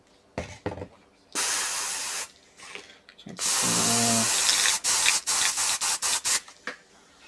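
An airbrush sprays cleaner in repeated bursts while being flushed for a colour change, giving close, loud hissing blasts of varying length, the longer ones steady and the later ones short and choppy.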